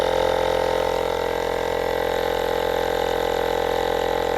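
An Auxbeam portable battery-powered air compressor runs steadily and loudly while inflating a tire from 15 to 33 psi, a continuous close-up mechanical drone with no talk.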